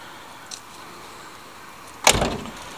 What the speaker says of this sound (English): The door shut nicely